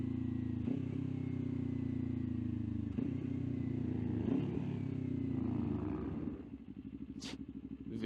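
A V-twin motorcycle engine idles nearby in a steady low throbbing rumble, then briefly changes pitch near the end with a couple of sharp higher clicks.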